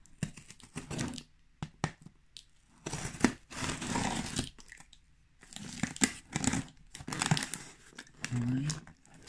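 Packaging crinkles and rustles in irregular bursts as a package is opened with old, unused scissors, close and fairly soft, with a voice speaking quietly between the handling noises.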